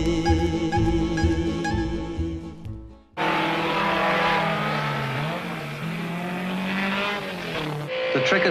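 A race car screams along the Targa Florio road course, engine note rising hard, then cutting out briefly before it surges again and the revs rise and fall into braking.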